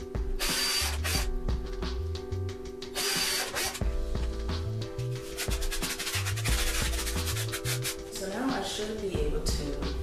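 A power drill whirs in several short bursts, pre-drilling holes in pallet wood, with a steady background hum and some low rumbling between runs.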